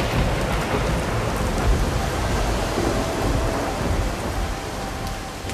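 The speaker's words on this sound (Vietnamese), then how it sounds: "trời đang mưa rất to" Heavy rain pours steadily with rolling thunder in a stormy scene from an animated Vietnamese fairy tale, a dense, loud wash of downpour that never lets up.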